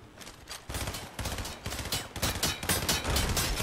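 Rapid bursts of video game gunfire crackle and rattle loudly for several seconds, dense automatic volleys with short gaps between them, heard alone without talk.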